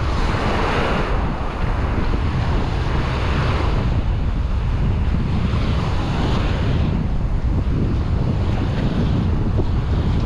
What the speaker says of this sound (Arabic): فما ريح فما موجه تحرك خادم البحر